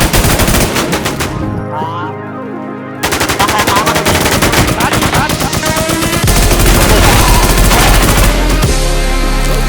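Dense, loud automatic gunfire from the online shooter game Infestation, rapid bursts rattling almost nonstop with heavy close shots layered over one another.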